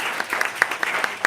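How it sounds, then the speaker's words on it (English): A live audience claps at a livestreamed event, a dense burst of applause with sharp individual claps standing out, brief and fairly close. "Big round of applause."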